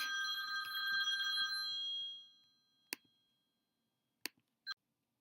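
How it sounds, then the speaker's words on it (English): A phone rings steadily for about two seconds, then stops, followed by a few sharp clicks and taps in near silence. "Sorry about that, my phone rang."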